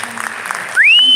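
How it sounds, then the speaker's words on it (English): Audience at a Cook County public meeting on property tax appeals applauding, scattered clapping that is cut off by a sharp rising electronic tone, likely microphone feedback. "So please give her and her team a huge round of applause."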